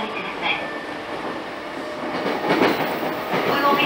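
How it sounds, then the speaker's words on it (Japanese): A JR Keiyo Line train runs along the track between Futamatashinmachi and Ichikawashiobama, a steady close rumble with faint wheel clatter and a soft squeal, rising slightly toward the end. "電車が揺れますのでご注意ください。"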